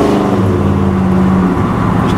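A 1979 Pontiac Trans Am engine runs steadily near the microphone on a hot day in Florida, a loud continuous low rumble with a slight rise in pitch and then a drop as the throttle eases, with no talking.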